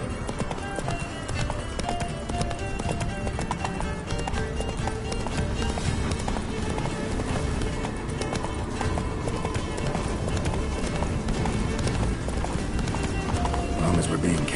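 Roach, Geralt's horse in The Witcher 3: Blood and Wine, gallops at a steady, driving clip-clop beneath game music and characters talking over the hoofbeats.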